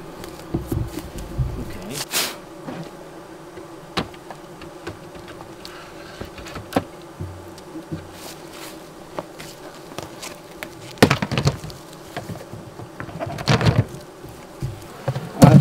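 Russian honey bees buzzing around open hive frames during a fall surplus honey harvest in Maine, with close passing buzzes and scattered handling knocks over a steady hum.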